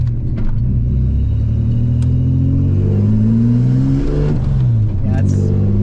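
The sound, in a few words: car engine revving at full throttle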